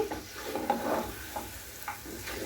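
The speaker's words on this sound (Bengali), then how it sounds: "এটা আমি ভালো করে কষিয়ে নিব" Boiled beef with chana dal is stir-fried in a pan, giving a soft low sizzle with intermittent scraping and stirring strokes, fairly quiet and close.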